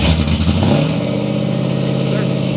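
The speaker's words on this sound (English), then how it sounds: "Center dump, cold startup, baby." A Jeep Gladiator with a center-dump exhaust on a cold start: a rough, rumbling engine idles loudly and close by, with a brief throaty rev at the start settling into a steady, burbling exhaust drone.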